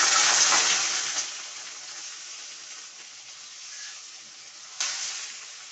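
Marinated chicken hits a pan of browned onions and sizzles loudly, the hiss fading to a gentle steady fry before a sharp fresh sizzle flares up again near the end, close and alone.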